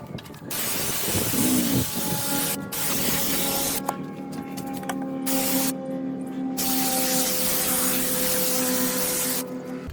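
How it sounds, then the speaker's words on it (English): Brake cleaner sprayed around the fuel injectors of a 2012 Ford F150 3.7L engine, loud close hissing bursts in several long stretches with brief pauses between them. "we're going with some brake clean, and then we're going to spray around the injectors just to get as much debris out as much as we can"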